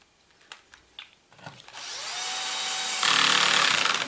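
A power drill drives screws into a wooden bevel sled: a few light handling taps, then a rising whir of the drill that holds steady and grows louder toward the end.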